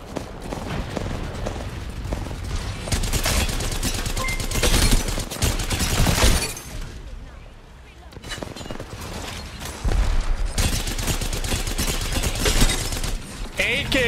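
AK rifle gunfire in a shooter video game, with dense rapid bursts that dip briefly in the middle and then resume, alongside game noise and talk.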